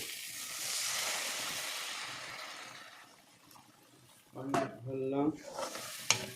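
Water poured into a pan of frying egg curry gives a loud, rushing sizzle that fades over a few seconds, then a quieter bubbling continues as a voice briefly speaks nearby.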